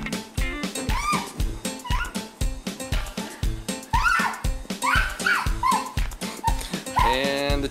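A Dalmatian yips, whines and whimpers repeatedly in quick bursts, close by, with a rhythmic pattering underneath and a sharper yelp near the end.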